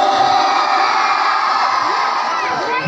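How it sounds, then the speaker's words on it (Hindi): A large crowd shouts and cheers continuously at an outdoor musical night event in Mainaguri, a loud, dense roar of voices with children's shrieks that holds steady throughout. "एक बार चिल्लाओ"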